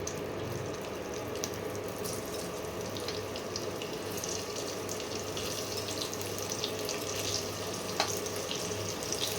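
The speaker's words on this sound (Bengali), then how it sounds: "কপিগুলোকে ভেজে নেবো" Steamed cauliflower florets frying in hot oil left from frying eggs, for an egg and cauliflower curry: a steady, dense sizzle that holds evenly throughout with no voices.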